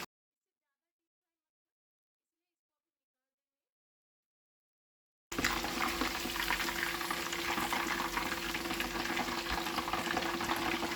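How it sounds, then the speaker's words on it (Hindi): Chicken pieces frying in hot oil for chicken Manchurian, a dense, even bubbling sizzle that begins abruptly after five seconds of silence and continues steadily to the end. "ऐसे ही हम बाकी के चिकन को फ्राई कर लेंगे"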